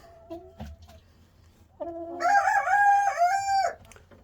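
A Silkie chicken among hens makes a few soft, short clucks, then a loud, drawn-out call that rises and falls for about two seconds, close by and without talk.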